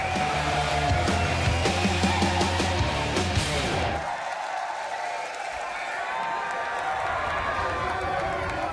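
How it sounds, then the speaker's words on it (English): Audience applauding and cheering for competing part-time bands at a UK band contest: loud music with heavy bass cuts off abruptly midway, then a broad wash of crowd clapping and cheering carries on at a slightly lower level. "Every single band, give them a round of applause, they've all won."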